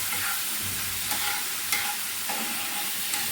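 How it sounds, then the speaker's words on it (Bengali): Ground ginger and cumin paste added to hot oil with turmeric for a koi fish curry, sizzling in a steady, loud hiss close up, with a few faint taps of a spoon against the pan. "এখানে আদা জিরে বেটে রেখেছি, দিয়ে দিলাম।"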